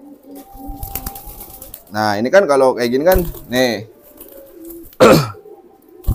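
A domestic pigeon coos in low, throaty phrases close by, mixed in with a man's speech.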